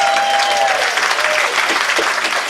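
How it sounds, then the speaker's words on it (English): A crowd claps and cheers steadily at a midnight comedy show, with dense sustained applause filling the room throughout. "Big round of applause for 25 years"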